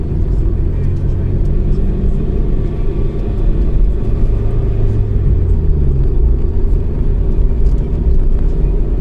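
A Honda Integra Type R DC5 engine hums steadily while the car is driven at night, a continuous low rumble with mild rises in revs, heard from inside the car under someone talking.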